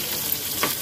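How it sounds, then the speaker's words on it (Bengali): Okra (bhindi) frying in hot oil, a broad steady sizzle with a brief stirring swell near the end, close and fairly loud with no talk. "দেখুন ভেন্ডিটাকে আমি লাল লাল করে ভেজে নিচ্ছি।"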